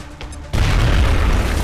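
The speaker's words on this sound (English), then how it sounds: "And then I throw a grenade and kill that one." A grenade detonating in the video game XCOM Enemy Within, one sudden loud booming blast with a rumbling low-end tail that lingers to the end, no talk over it.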